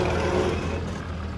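A truck engine drones low and steady with added throttle, a close, continuous rumble that eases slightly toward the end.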